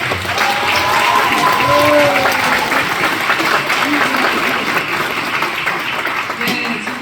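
Audience applause breaks out during a Korean broadcast interview, a dense steady clapping that fills the whole stretch, with a voice speaking faintly underneath.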